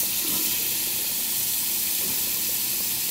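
Hot water running from a kitchen tap, a steady hissing splash close by that lasts throughout with no talk.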